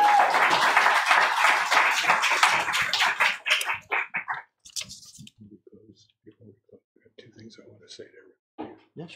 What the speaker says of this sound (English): One more round of applause for Essay